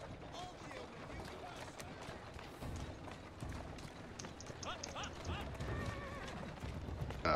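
Horse hooves clip-clopping with an occasional whinny in the Assassin's Creed Syndicate video game, heard amid street ambience and mechanical clatter, steady and fairly close.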